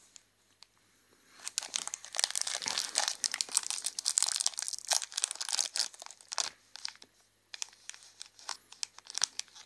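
Candy wrapper for Ukrainian-made chocolate-covered milk souffle sweets crinkles and tears open in a long run of close, sharp, papery crackles with brief pauses, loud and alone.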